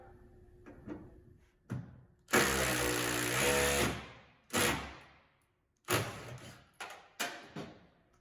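An impact wrench drives bolts while a WM Systems swivel loading ramp is installed in a Ford van. It rattles out several close bursts: a long, whining burst of about a second and a half, followed by shorter hammering bursts with pauses between them.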